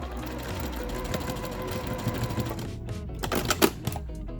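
A sewing machine stitches a face mask casing closed in a fast steady whirring run, then stops into a few short stuttering bursts and clicks.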